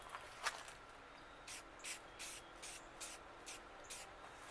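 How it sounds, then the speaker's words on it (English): Rust converter hisses from an aerosol can onto the hood of a 1984 Nissan 4x4 in about eight short, evenly spaced bursts, faint and fairly distant, with no voices. "we're going to shoot just a little bit of"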